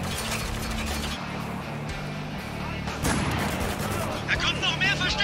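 Gunfire in the video game Spec Ops: The Line rattles through as dense, continuous shooting with heavier booms and a sharp burst near the middle, mixed under other game noise.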